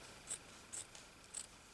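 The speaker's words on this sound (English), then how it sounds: "I'm still using these chopping scissors" Three quick snips from scissors cutting fabric, each a short crisp clip spaced about half a second apart, faint and close against a quiet background with no talking.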